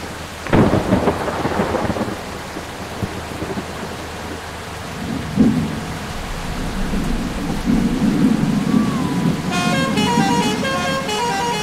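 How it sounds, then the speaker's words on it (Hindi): Heavy rain pours steadily in the Bus Simulator Indonesia game at night, with a loud thunder crack early on, a low rumbling bus engine underneath and a brief tonal chime near the end. "बारिश भी जोर से हो रहा है देख सकते हो।"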